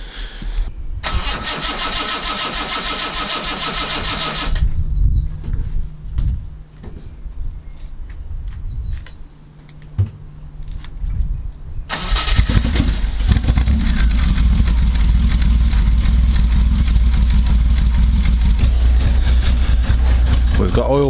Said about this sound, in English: I'm going to start the car up in a second